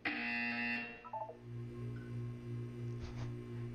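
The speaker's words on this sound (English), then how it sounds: "You will hear a buzzer." A buzzer sounds in the video game Portal 2: a bright electronic tone opens the clip, then a steady low buzzing hum pulses on and off for a few seconds, fairly quiet and alone.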